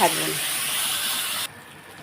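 Hot oil sizzles steadily in a pan while ingredients are lightly fried for a fish curry with drumstick leaves, a loud, even hiss that cuts off abruptly after about a second and a half to a quieter background.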